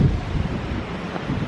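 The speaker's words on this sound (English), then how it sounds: "The wind is probably blowing." Wind blows steadily outdoors, a continuous low rushing roar buffeting the microphone with gusty surges throughout, loud and close, with no voices.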